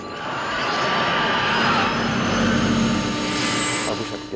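A loud car engine roar drones steadily under a broad rumble from a stainless exhaust, rising slightly in pitch and then easing off, heard close by.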